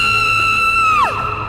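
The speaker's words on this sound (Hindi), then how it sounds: "ये देख अरुणा जोर से चीख पड़ी" A woman's loud, sustained scream, used as a horror-story sound effect, holds one steady pitch for about a second and then drops sharply and trails off, with no talking around it.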